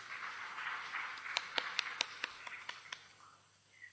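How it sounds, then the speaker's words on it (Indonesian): A church congregation at a Sunday service in Malang gives a sparse, faint round of applause for a singing group, a dozen or so scattered claps over a soft, hollow room murmur. "Tepuk tangan dulu untuk kelompok 3."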